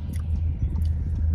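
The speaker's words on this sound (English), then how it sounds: "So we're gonna take a bite." Someone biting and chewing a crunchy pickle, close-up mouth sounds with soft crunches and moist chewing over a low hum.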